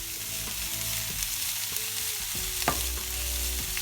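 Sliced beans and carrot stir-fried in a pan as vegetable momo filling, a steady close sizzle with repeated scraping stirs throughout and no talking.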